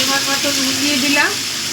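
Whole spices sizzle steadily in hot oil in a pan while a jujube pickle is being made, a continuous close frying hiss with a voice speaking over it.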